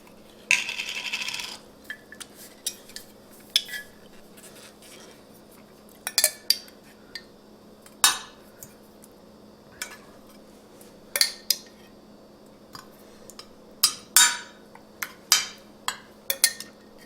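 A metal spoon scrapes and clinks against a 9x13 baking pan while spreading spaghetti sauce for a keto meat lasagna, producing scattered sharp taps and scrapes at irregular intervals, close and fairly quiet, with no voices.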